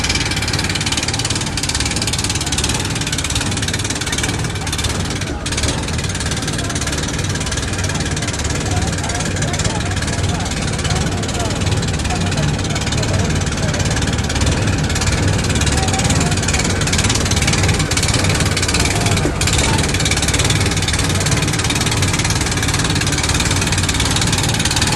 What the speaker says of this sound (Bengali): কত জোরে বোট চলছে চলো সাউন্ডটা শোনাই